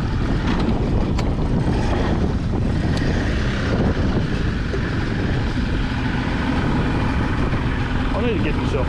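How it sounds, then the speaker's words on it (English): Strong gale-force wind buffets the microphone in a constant rough roar while crabbing by a river, with water sounds and occasional voices mixed in. "Yes, he's blowing a gale today"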